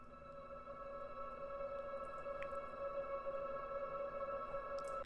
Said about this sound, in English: And I also created a nice, fierce, dronal sound.